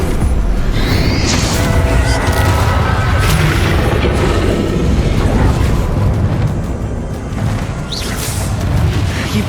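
Bombarda blasting spells in the video game Hogwarts Legacy, loud continuous rumbling explosions and crashing impacts that fill the whole stretch, easing slightly near the end before building again.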